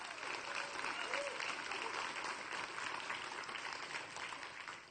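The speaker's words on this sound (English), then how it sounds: "So let's give them a round of applause." An audience applauds at a technical conference talk, steady clapping that is fairly faint and distant, holding evenly throughout without a break.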